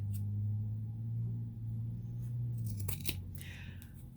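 A low hum fills the background, then several crisp snips of scissors cutting come in quick succession toward the end, close and moderately loud.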